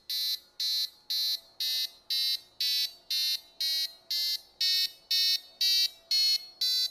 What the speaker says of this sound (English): The faster the microcontroller turns the MOSFET on and off, the higher the pitch will be.